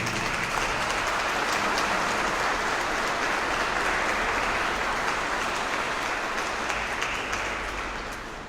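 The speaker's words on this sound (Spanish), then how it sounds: "a ambas familias les damos un fuerte aplauso de agradecimiento por su oración" A church congregation applauds at a Sunday Mass, a dense, steady wash of many hands clapping that holds loud and even for several seconds before tapering slightly at the end, with no talking over it.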